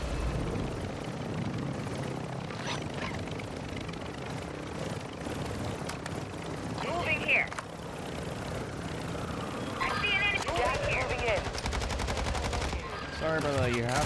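Call of Duty match audio carries continuous game gunfire with bursts of automatic shots over a steady helicopter-like rumble, with a speaker's voice occasionally talking over the dense battle noise.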